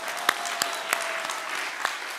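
Brief burst of church audience applause at a new-family invitation seminar, many hands clapping in a dense patter with several crisp, prominent claps close by, sustained evenly and without voices.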